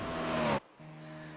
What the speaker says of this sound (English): we see another car coming down pit lane right now